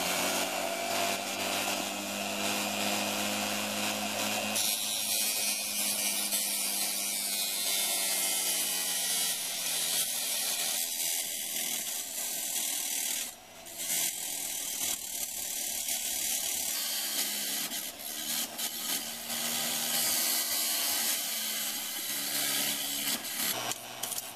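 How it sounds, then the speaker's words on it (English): A cheap angle grinder fitted with a cutting attachment slices through thin metal while building a hobo stove from IKEA parts, a loud continuous whine running steadily for about twenty seconds with only a brief dip midway. "cheap grinder with this attachment that I got from Lidl, so I'm going to use that. It's going to be a bit loud"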